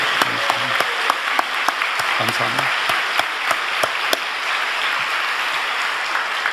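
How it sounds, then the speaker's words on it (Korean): A congregation at a Korean Sunday evening church service bursts into loud, sustained clapping that fills the room, with a brief spoken word from the front partway through. "우리 이 아버지 하나님께 감사와 존귀와 영광의 박수를 크게 드리기 원합니다"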